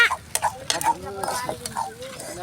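Millet noodles stirred in a pot over a wood fire, a spoon scraping and clicking against the vessel in quick irregular strokes, close by with faint sizzling beneath.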